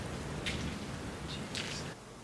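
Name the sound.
rain falling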